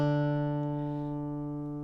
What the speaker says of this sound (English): We'll pluck the 2nd and 4th strings together